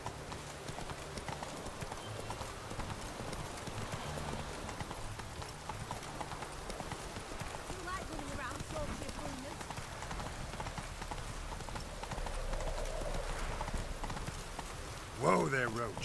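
A horse's hooves clip-clop at a steady trotting rhythm in the video game The Witcher 3: Wild Hunt, continuous and moderately loud, with a rider's voice briefly over the hoofbeats.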